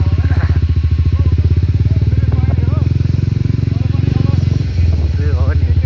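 A new motorcycle engine runs close by with a steady, rapid pulsing throb and a rattly edge, people talking loudly over it the whole time.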